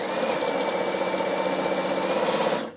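Bernina sewing machine stitching fabric, a steady close whirring motor hum with a fast regular pulse that runs evenly, then cuts off abruptly at the end.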